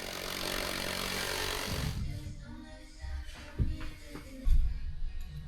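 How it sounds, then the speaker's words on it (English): A jigsaw cuts OSB board with a loud, dense buzzing rasp for about two seconds, then stops and gives way to a few scattered knocks and handling clunks. "using the existing arch to mark the shape onto the OSB and cut it with the jigsaw"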